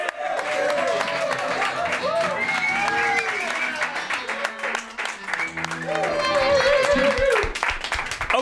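A studio audience cheers and applauds for a guest named Darren on a Manchester house-party show, a dense, sustained wash of clapping and crowd noise with voices rising over it throughout.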